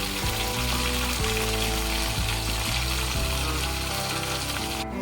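Dried red chilies frying with browned onions in a pan, giving a loud, continuous close sizzle with faint stirring scrapes and no talk.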